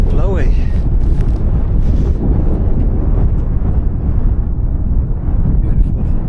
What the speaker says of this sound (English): Woo, that is blowy.